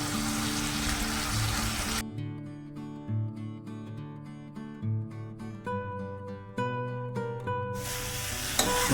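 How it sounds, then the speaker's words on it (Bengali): Chicken coated in ground cumin, coriander and chicken masala cooks in a pan with a soft, steady sizzle, fading to quieter stirring and scraping before the frying swells again. "ভালোভাবে চিকেনগুলোকে মশলার সাথে মাখিয়ে রান্না করে নেব।"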